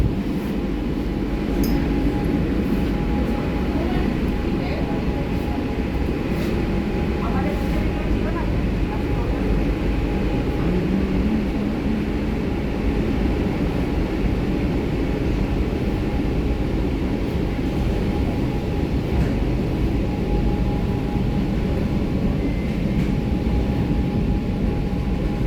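Kolkata Metro train running between Behala Taratala and Joka, a steady, loud rumbling drone of wheels and motors heard from inside a nearly empty carriage, constant throughout with no break.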